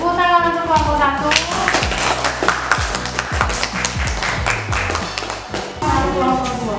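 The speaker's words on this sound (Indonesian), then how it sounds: "Tepuk tangan untuk kelompok 1" A classroom claps for group 1 after its presentation: a run of sharp, uneven hand claps in the middle, with a speaking voice just before and after.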